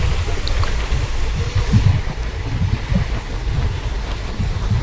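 Wind rushes through a moving car on the road to Tarapith, making a continuous low buffeting rumble close to the microphone with no voices.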